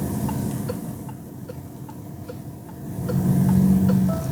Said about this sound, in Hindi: ये मैंने इसके इंडिकेटर्स ऑन किए। लेफ़्ट साइड पे मुझे जाना है तो अच्छी बीप के साथ, अच्छी साउंड के साथ इंडिकेटर्स नज़र आ रहे हैं।